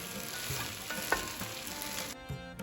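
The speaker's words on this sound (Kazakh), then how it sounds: "Қамырды 5-10 минуттай қуырамыз." Lagman noodle dough fries in a pan with soy sauce, giving a steady, fairly quiet sizzle broken by a few scraping stirs, with no one talking.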